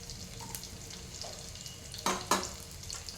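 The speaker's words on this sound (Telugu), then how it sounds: "దీన్ని మంచిగా ఫ్రై చేసుకోవాలండి ఇలా ఫ్రై కానివ్వాలి" Garlic cloves and coconut pieces frying in a pan give a low, steady sizzle, with two brief louder bursts of crackle and stirring near the end, close and moderate in level with no voices.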